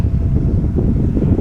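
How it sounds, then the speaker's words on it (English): Loud low-pitched rumbling buffets of wind hitting the microphone, continuous and close throughout the short clip. "Sorry about the wind."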